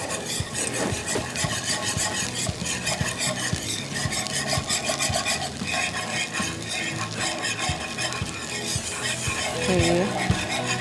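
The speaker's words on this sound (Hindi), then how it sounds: "बटर और मैदा डाल के इक्वल ये आप एक बैचमल रेडी कर रहे हैं।" Butter and flour roux being stirred for béchamel sauce, a steady rasping, scraping stir with light sizzling, continuous and close throughout, with no one talking.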